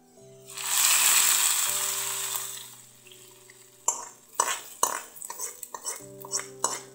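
Dried chillies and curry leaves tempered in oil for a Kerala-style prawn and mango curry, a loud hissing sizzle that swells then fades, followed by several sharp clinks and clatters of a pan or ladle against a pot.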